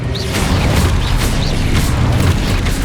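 Confringo spells detonate in Hogwarts Legacy combat, producing a continuous rumble of booming blasts and crunching impacts, loud and dense, with faint game effects over it.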